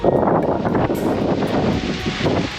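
Wind gusts outdoors at Wat Thong Hai Hin temple, a steady loud rushing buffet against the microphone that persists throughout with no pauses.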